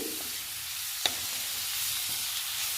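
Onions fry gently with cumin, coriander powder and ginger-garlic paste, giving a faint, steady sizzling hiss with one sharp click near the start, heard alone without speech.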